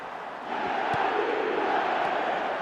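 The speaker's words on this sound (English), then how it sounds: "the crowd level has gone up a notch or 10." A stadium crowd in the eFootball 2026 mobile football game roars up into a loud, sustained cheer, a dense wall of noise that swells after a quieter start and holds steady.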